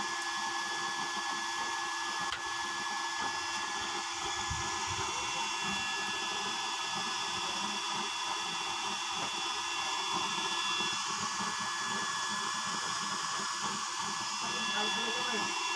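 The blower of an oil stove running during preheat, a steady whirring fan hiss with a faint high whine, continuous and fairly close, with low voices talking underneath.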